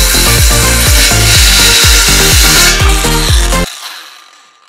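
Wood pieces for a teardrop camper are sawn with quick, rhythmic back-and-forth strokes. The sawing is loud and close, then stops abruptly, leaving a fading ring.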